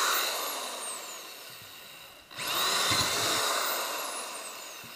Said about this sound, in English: And then we're gonna come back and drill some more here